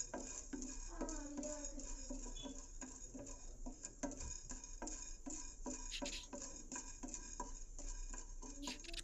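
Chana dal dry roasting in a pan without oil, stirred steadily with a spoon, giving a soft continuous patter of lentils scraping and rattling against the metal, close and quiet, with no talking.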